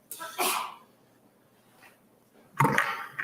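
Two sneezes a couple of seconds apart, the first fairly soft, the second louder and sharper, with near silence between them.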